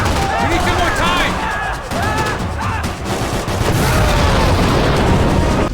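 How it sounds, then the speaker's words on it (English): Loud, dense bursts of gunfire and booming set-piece explosions in the video game Max Payne 3 roar continuously, with shouting voices mixed into the chaotic battle noise. "After some lovely set-piece explosions"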